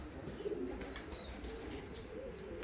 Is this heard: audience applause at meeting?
no